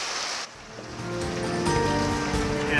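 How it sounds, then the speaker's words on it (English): Steady heavy rain drumming on a van nearby in Ireland, a brief lull then a dense continuous patter, no voices. "and the rain is back."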